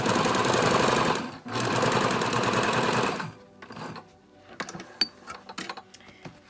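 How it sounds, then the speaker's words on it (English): A sewing machine stitches a side seam on a fabric face mask in two fast rattling bursts, then falls to quiet handling clicks and taps, close with no voices. "sew the little side seam"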